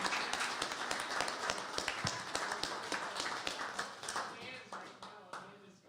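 A concert audience at a songwriter round-up at a winery claps for the sound engineer, a scattered burst of hand claps with some taps, fading near the end.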